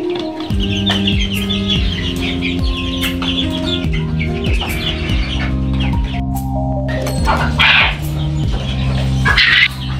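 Chickens on a poultry farm cluck continuously and loudly nearby, a busy chorus of overlapping clucks and squawks.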